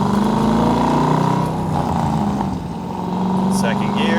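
A 2002 Chevrolet Corvette Z06 pulls steadily in second gear, its engine giving a continuous loud drone from inside the car, with someone talking over it.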